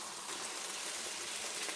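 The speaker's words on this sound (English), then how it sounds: "I'm probably pouring in about half of a cup." Broth poured into a skillet of pork chops and potatoes, a steady close liquid splash and trickle heard alone for under two seconds.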